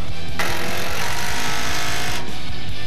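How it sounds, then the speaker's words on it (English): A Rockwell 3rill impact driver hammers lag screws through 2x lumber into steel, a loud rapid rattling burst of impacts close up, steady throughout the short run. "that thing is torquing down as tight as can be, and those are lags going into steel through 2x"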